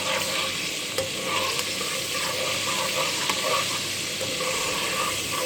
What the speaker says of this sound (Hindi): अदरक लहसुन का पेस्ट शामिल कर देंगे और इसको अच्छी तरीके से भून लेंगे।